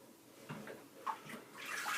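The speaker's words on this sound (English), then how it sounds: "I will add a little more water to my bowl" Water trickles and splashes into a shaving bowl in a few soft, close bursts, quiet and brief with no talking.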